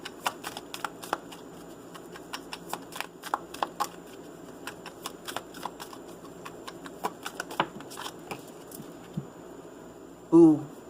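Tarot cards are shuffled in a long run of crisp, irregular riffling flicks of moderate loudness, with a brief louder burst near the very end.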